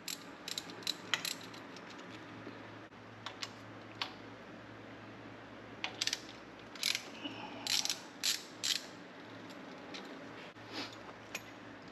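A ratchet loosening the bottom thermostat housing bolt on a car engine, quiet clicking bursts in short runs separated by pauses, close and alone.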